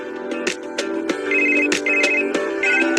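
A mobile phone ringtone ringing loud and close, a repeating electronic tune with sharp, evenly spaced notes and no voices.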